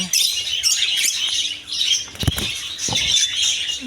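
Colourful caged birds in a shop chirp continuously while wings flap in sharp bursts near the middle, a dense, close chatter with no voices.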